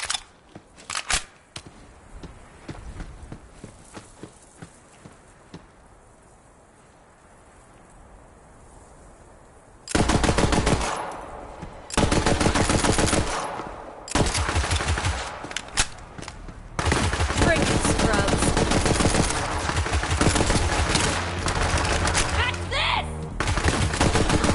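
Weapon fire in Borderlands 3, first as scattered sharp shots, then loud sustained bursts of rapid automatic gunfire after a quieter stretch, with dense close-range volleys and brief gaps between them.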